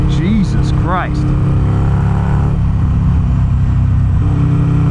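A dyno-tuned 1275cc Harley-Davidson Sportster engine drones loud and close with a steady, high-pitched engine tone throughout, joined by a short rising whine and a few brief tonal chirps near the start.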